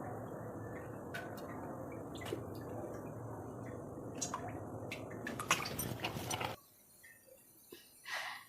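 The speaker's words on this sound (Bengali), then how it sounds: "কড়াই গরম হয়ে গেছে, বেগুনির জন্য তেল দিয়ে দিচ্ছি" Oil is poured into a hot wok for frying beguni, giving a dense, wet crackle and dribble that runs steadily, grows busier toward the end, then stops abruptly, leaving a couple of faint drips.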